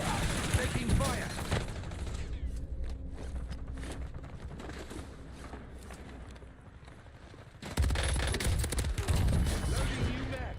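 Gunfire in the Black Ops Royale video game: dense crackling shots and fusillades, loud at the start, fading into a quieter rattling stretch, then bursting loud again near the end, with voices mixed in.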